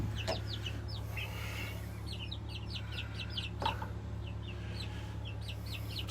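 Baby chicks and young turkeys in a brooder give short, high peeps in scattered quick bursts over a steady low hum, close by and fairly soft.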